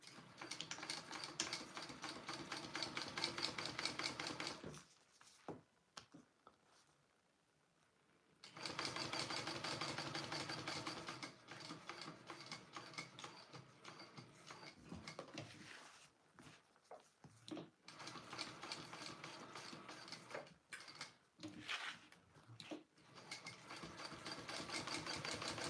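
A sewing machine stitches fabric in fast, steady bursts. One long run is followed by a short pause, then more runs broken by brief stops. Nobody speaks.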